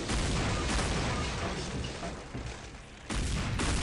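A helicopter in Counter-Strike singleplayer fires at the player: a loud, dense burst of rapid gunfire over a heavy rotor rumble, easing briefly before surging again near the end.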